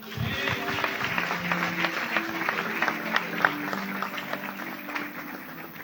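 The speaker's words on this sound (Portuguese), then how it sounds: "Aplauda ao Senhor." A church congregation claps in praise, a lively spread of hand claps under a preacher's voice and crowd murmur, moderately loud and steady throughout.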